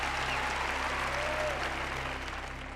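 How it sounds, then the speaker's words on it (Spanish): A large church audience of thousands applauds in a big auditorium, dense sustained clapping that stays loud and even, then fades slightly near the end, with no talking. "Les aplaudo."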